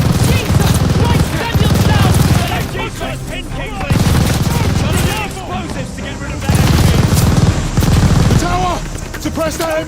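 Machine gun fire in a video game battle, coming in several loud, sustained volleys separated by short lulls, with a voice speaking at points.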